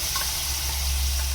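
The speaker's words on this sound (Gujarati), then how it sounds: "તેલને ઘી ગરમ થાય એટલે તેમાં આપણે બનાવેલી પેસ્ટ મસાલાની છે તે નાખશું" Masala paste sizzles loudly in hot oil and ghee in a kadai for palak paneer, a close, steady frying hiss with faint stirring and no talk.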